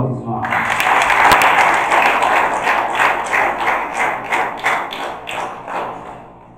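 Wedding guests break into applause, a dense wash of clapping that swells early and then thins and tapers into scattered claps, with a few sharp taps and voices underneath.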